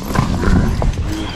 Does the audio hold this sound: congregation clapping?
no